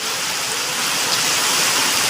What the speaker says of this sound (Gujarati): વરસાદ પડે વરસાદ.